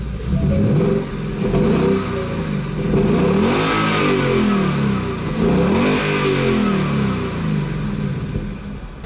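A 2015 Ford Mustang with the 310-horsepower EcoBoost four-cylinder revs hard, the loud engine note climbing and falling through several sweeps close by, with no talk over it.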